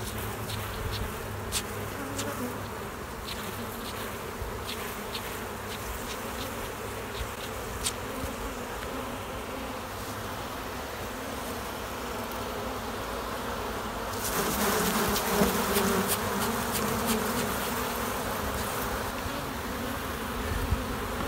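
A swarm of agitated honeybees drones steadily after being brushed off a hive frame, a dense continuous buzz that swells louder in the last few seconds with no talk.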